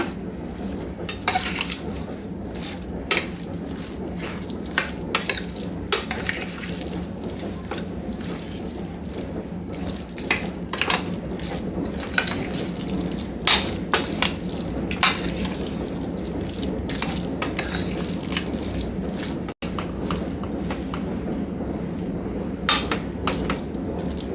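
A spoon stirring curd rice with salt and coriander in a bowl, giving soft wet squelching with frequent sharp clinks of metal against the bowl, steady and close, with no talking.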